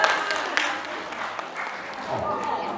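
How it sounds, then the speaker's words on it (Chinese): A small group of children at a church Sunday school clapping briefly, a light scattered patter of hands, with voices and room noise around it. "跟鼓掌一下"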